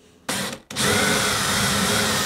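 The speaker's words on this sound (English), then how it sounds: "I'll drill the back pieces before I fit them, because it will make it a lot easier." A power drill boring into wooden back pieces for small bedside units, with a brief start-stop burst and then a steady, loud whirring grind close by.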